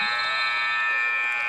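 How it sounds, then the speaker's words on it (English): A basketball game-ending buzzer blares loud and continuous at a high school boys' game, a harsh steady electronic tone filling the gym with no pauses. "hangs on to it to the buzzer sound"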